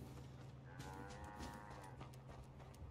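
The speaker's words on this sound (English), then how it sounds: "Hello, cows." Cattle mooing in Fallout 4, several low drawn-out moos over a steady droning background hum, fairly close and continuous.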